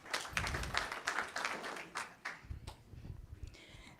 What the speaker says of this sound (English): Please clap for Clarice.